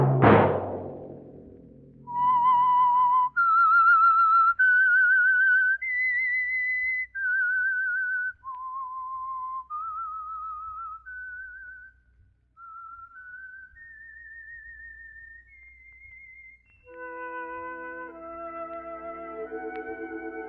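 Someone whistles a clear, slow melody of sustained notes after a brief opening thud, ending with a few lower tones chiming together, the opening signal of an old-time radio drama.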